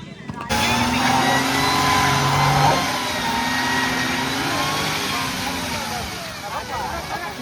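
A car stuck in mud revs hard and steadily, its pitch rising and wavering as it strains, with voices talking over the roar.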